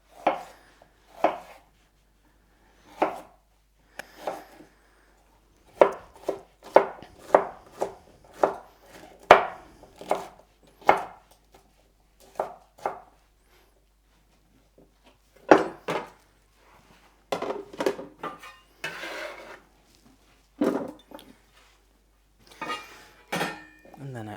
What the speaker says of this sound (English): the other half of this I'm going to cut into cubes to go in the salsa